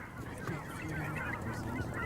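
Wild geese honk repeatedly in flight, a continuous chorus of overlapping calls at moderate distance with no one speaking.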